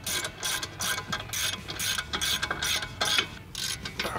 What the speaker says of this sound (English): we're going to use a ratchet to snug them down